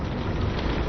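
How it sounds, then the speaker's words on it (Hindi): Heavy rain driven by strong winds in Haldwani, Uttarakhand, makes a steady, loud, hissing roar throughout, with no talking over it. "हल्द्वानी से तस्वीरें हैं, जहां पर तेज हवाओं के साथ बारिश का दौर शुरू।"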